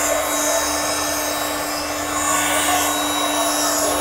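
A rechargeable XG-668D air pump inflates a thick mattress, producing a steady, loud, continuous motor whir with a constant hum and airy hiss that holds unchanged throughout, without speech.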